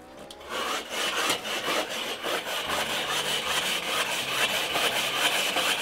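Weber kettle grill grates are scrubbed with a porous cleaning brick, giving a continuous gritty, rasping rub with repeated back-and-forth strokes, close and moderately loud, with no talk.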